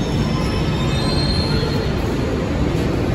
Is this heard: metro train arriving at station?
yes